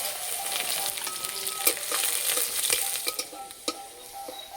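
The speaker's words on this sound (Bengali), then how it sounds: "রসুন ভাজা হয়ে গেছে" Crushed garlic and dried red chillies fry in a little oil in a kadai with a continuous close sizzle, punctuated by several sharp spoon scrapes and clinks against the pan; no voices.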